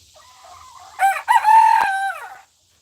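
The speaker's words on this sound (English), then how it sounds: "I don't know if y'all can hear the cicadas over the damn roosters." A rooster crows once, a loud, clear cock-a-doodle-doo nearby, with a faint buzzing of cicadas in the background.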